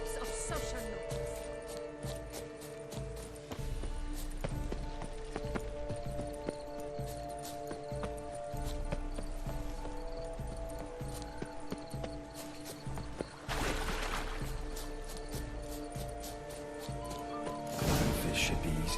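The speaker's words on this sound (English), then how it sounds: "Be better off on horseback." Horse hooves clop in a steady galloping rhythm in the video game The Witcher 3, persistent and close, with game music and ambience underneath and a couple of louder crashing moments near the end.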